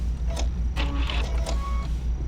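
A sewing machine runs in short mechanical bursts as it stitches a back tack on a quilt-as-you-go zippered cosmetic bag, with a steady low motor hum underneath.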